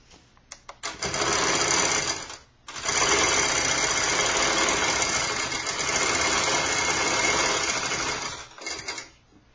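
A sewing machine top-stitches quilt binding with a loud, close whir that starts, stops briefly, then runs on steadily for several seconds before winding down with a few short bursts.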